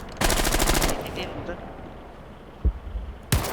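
Automatic gunfire from a weapon in Rainbow Six Siege, a loud rapid burst lasting under a second, then two single sharp shots later, with quiet game ambience between.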